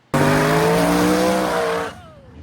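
A drag race car veering toward the center line with skidding tires, a loud sustained engine roar with tire squeal that cuts off abruptly, no talk.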